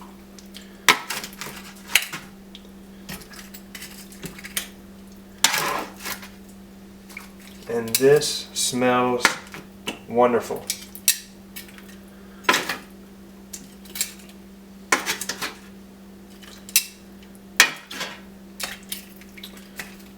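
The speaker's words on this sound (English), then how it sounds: "We're going to take these bones and put them in our pot" Veal bones clatter into a metal stock pot with a few sharp knocks and a cluster of clinking, scraping hits, close by, between pauses, with a person talking briefly over it.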